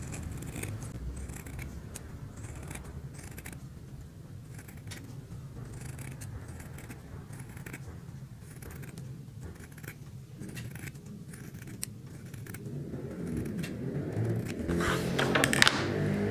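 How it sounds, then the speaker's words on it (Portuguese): Scissors snipping fabric pieces for a bathroom rug set, a steady series of soft, close cutting strokes with faint rustling of cloth, alone without talk. "Essa tesoura tá bem ruimzinha."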